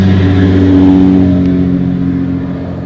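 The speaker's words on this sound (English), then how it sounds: "Still can't escape that loud ass traffic." Loud road traffic close by, a dense continuous engine roar with a car revving and passing, steady and heavy throughout with no talk over it.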